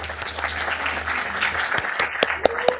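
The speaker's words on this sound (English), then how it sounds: "Let's give him a round of applause." Attendees at a Downey city council meeting give a brief round of applause, moderately loud with a steady hum underneath and a few sharper individual claps near the end.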